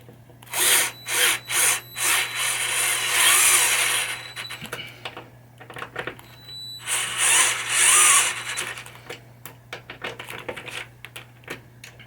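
A spinning screwdriver whirs in short repeated bursts, then longer runs, while installing rollover wires on a 1980 Williams Firepower pinball machine, close and fairly loud over a steady low hum.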